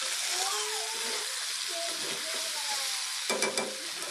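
Vegetables frying and being stirred in a pan in a village kitchen, giving a steady sizzle throughout with scraping stir sounds and a brief burst of clatter near the end, with faint voices in the background.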